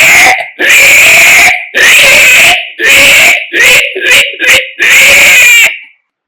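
A voice imitates a piglet squealing, with a run of loud, shrill squeals in bursts of varying length and brief gaps between them.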